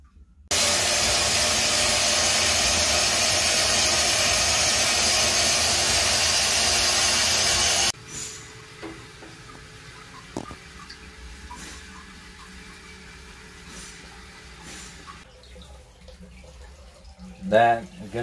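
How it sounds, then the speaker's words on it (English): Vapor honing cabinet blasting a fairly new Edelbrock Performer intake manifold, a loud steady hiss of pressurized spray for about eight seconds, then a quieter stretch of faint clanks and handling noises with talk. "this reasonably brand new Edelbrock Performer 383 in our brand new vapor honing cabinet"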